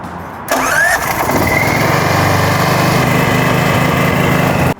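A portable backup generator for an office fires up after a brief quiet moment, then settles into a loud, steady, close engine running with a buzzing mechanical hum.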